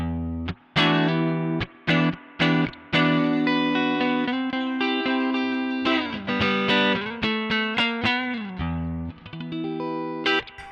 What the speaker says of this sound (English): neck pickup, clean. This is the clean sound.